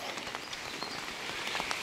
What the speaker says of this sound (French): petite balade sous la pluie